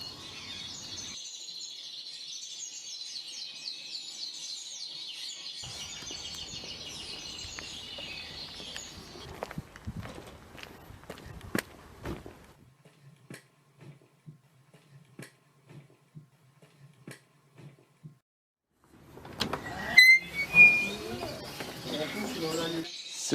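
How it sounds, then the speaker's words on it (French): Birds at a bird exhibition give chirps and twittering calls, with scattered clicks and a burst of sharper calls near the end, mixed with people talking nearby. "C'est bien par ici, l'expo oiseau."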